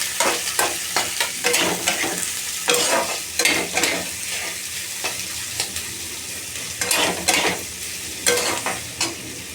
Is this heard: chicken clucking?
no